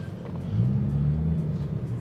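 A Ferrari parked just behind gives off a low, steady engine rumble, close and continuous, with a slight swell partway through and no talk over it.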